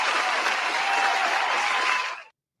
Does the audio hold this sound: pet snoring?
no